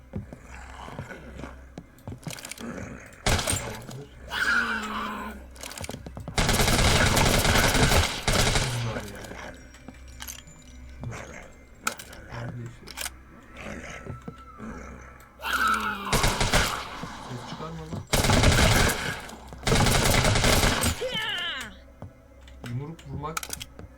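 Gunfire in the zombie shooter Deathly Stillness, with bursts of rapid automatic shots in two main volleys among scattered single shots, clicks and game sounds.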